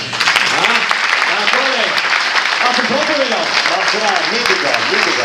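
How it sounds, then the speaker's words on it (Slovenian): An audience at a Slovenian culture day celebration claps loudly and continuously, while voices call out and chatter over the dense applause. "Zdaj se čuje aplavz."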